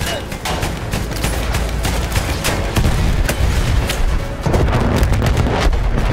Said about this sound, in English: Oh my goodness, that was a big explosion.